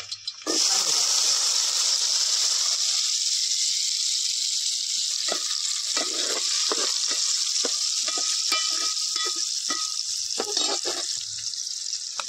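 Garlic paste hits hot oil for tempering a Malvani-style clams dish, setting off a loud, steady hiss of frying that runs close and continuous for several seconds with scattered crackles and the scrape of stirring.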